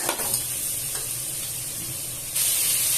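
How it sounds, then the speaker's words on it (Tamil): Chicken breast sautéing with onions in a hot pan for Karaikudi chicken curry, a steady close sizzle with occasional stirring scrapes, swelling brighter and louder near the end, no voices. "இதே மாதிரி நீங்க இந்த ஆனியன்ல போட்டு சிக்கனை ஒன்று சாத்தே பண்ணி"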